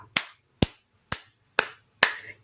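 Slow, deliberate hand claps at a community press conference: five sharp, evenly spaced claps ring out close and alone, each with a short decaying tail.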